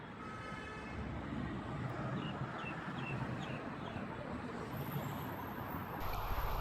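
Steady, fairly faint street traffic at a bus stop in China, buses and cars rumbling past in a continuous wash with a brief higher tone late on, no speech.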